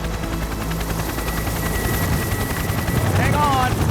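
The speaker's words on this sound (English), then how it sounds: "The two counter-rotating sets of rotors means the Kamov doesn't need a tail rotor to stop the helicopter body from spinning." A Kamov helicopter with twin counter-rotating rotors and no tail rotor flies close by, its steady loud rotor thump and engine whine filling the scene throughout.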